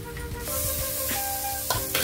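Chopped tomato goes into masala sizzling in oil in a pan, a steady close hiss broken by a few sharp scrapes of stirring.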